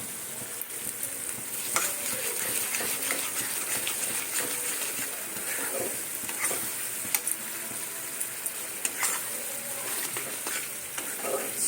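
Amla pickle cooks in a pan with a soft, steady sizzle, broken by repeated spoon scrapes and small clinks as it is stirred, close by and without voices.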